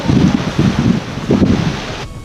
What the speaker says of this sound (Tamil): இங்கே இவ்வளோ காற்று அடிக்கிறது.